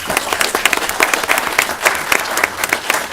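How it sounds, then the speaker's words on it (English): An audience gives a round of applause to honour Jim Chambers at a live-streamed gathering in Villa Rica: dense, steady clapping from many hands, fairly loud and sustained throughout. "Y'all give him a round of applause"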